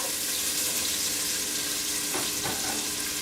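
Onions are swirled in hot bacon fat for fried cabbage, a constant soft sizzle and hiss with a couple of brief scrapes near the end, fairly quiet and without talk.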